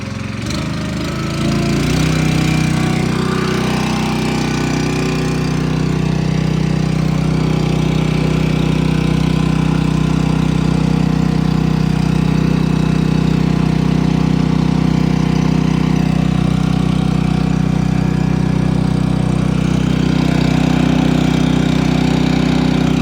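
A mixer engine revs up and settles into a loud, steady, droning run while the batch mixes, close and continuous with a constant low hum and no talking.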